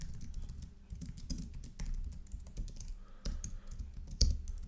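Rapid clicking of keys on a computer keyboard while entering code for an Excel file export, a close, uneven run of taps with brief pauses and a louder keystroke near the end.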